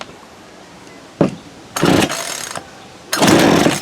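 A 2013 Poulan Pro 42cc PP4218AVX chainsaw with an 18-inch bar is pull-started, with a sharp first tug followed by two loud, sustained bursts of recoil-cord pulls and sputtering attempts, close and alone.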